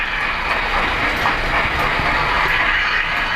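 A model freight train on a Polar Express model railroad runs steadily along the track, giving a loud, even rolling rumble close by with no talk.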